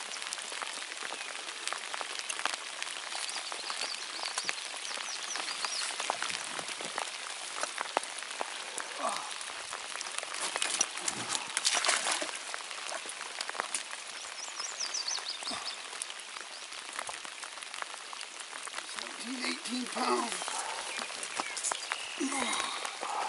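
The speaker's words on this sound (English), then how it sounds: "It's raining. Been raining all morning." Steady rain falls and patters on surfaces in a continuous hiss, with faint scattered sounds and voices in the background.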